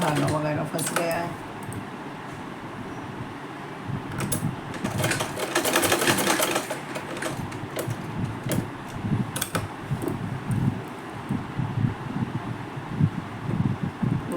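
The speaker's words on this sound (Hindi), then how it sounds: "मशीन बहुत टाइम बाद चला रही हूँ" A sewing machine stitching a blouse after long disuse, its needle chattering in uneven bursts with a louder rapid run in the middle, amid rustling handling noises and someone talking.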